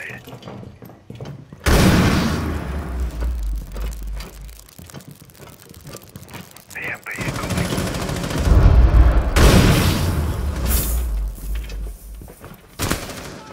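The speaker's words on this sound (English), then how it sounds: "Throwing an EMP grenade." In a Rainbow Six Siege match on the Villa map, an EMP grenade bursts amid loud game gunfire and impacts, with players talking over the chaotic, booming action.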